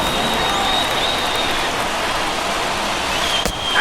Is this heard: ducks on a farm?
no